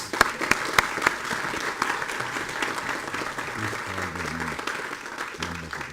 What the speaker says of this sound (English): Round of applause for all the Gandhi scholars.